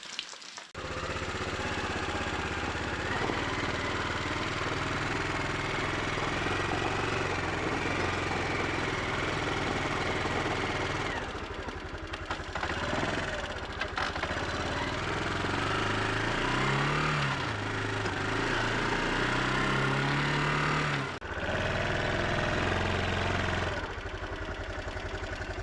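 On a rainy farm, a four-wheeler ATV engine idles with a steady low rumble for most of the stretch, broken by a few brief dips and rises in pitch, with rain hiss in the background and no voices.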